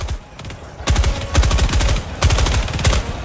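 Bursts of rapid automatic gunfire in the video game Helldivers 2, several loud rattling volleys separated by brief gaps, close and sharp.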